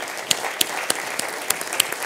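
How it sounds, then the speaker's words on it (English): Applause from an audience at a climate change panel event, a steady dense patter of clapping with a few sharper claps standing out, heard alone without voices. "join me in giving a warm round of applause to a very distinguished group of panelists."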